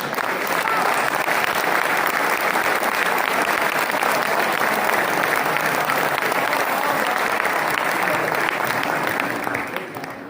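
An audience at an Urdu poetry recital bursts into sustained, loud applause as a favourite poet is welcomed, steady clapping from a large crowd that fades slightly at the very end.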